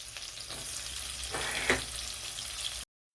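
Onion and cauliflower frying in hot oil in a pan, a faint steady sizzle with a brief clink midway, alone, then a sudden cut to silence near the end.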